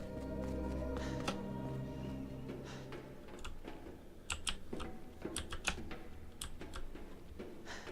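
Computer keyboard typing, a steady clatter of keystrokes that thins into sparse, sharp clicks in the second half, set against a low continuous background hum.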